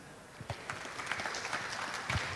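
Forum audience claps for the speakers, a faint, scattered patter of hands that thickens slightly toward the end.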